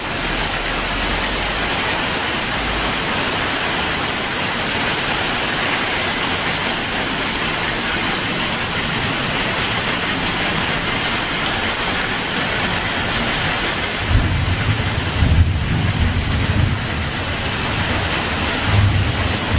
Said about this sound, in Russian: ливень. Тропически идет.